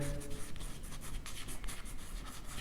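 Writing on a board during a maths lesson on matrices, with a steady stream of scratchy, rubbing strokes and short taps as letters are formed, close and clear, with no voice over it.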